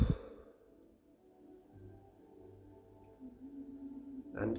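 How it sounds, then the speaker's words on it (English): A long, slow exhale during a guided breathing exercise, a soft breathy sigh fading over several seconds in a quiet room, ending with a brief sharper breath sound. "Breathing out."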